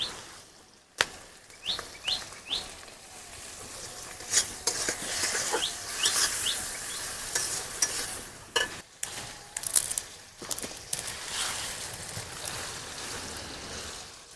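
Onion and tomato frying in a pan for an egg and soybean curry, a soft continuous sizzle broken by scraping stirs and clinks of a spatula against the pan, fairly quiet, with birds chirping faintly in the background.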